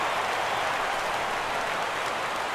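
A baseball video game crowd, Mariners versus Red Sox, rises for a full count with a dense, continuous roar of cheering and applause at steady loudness throughout.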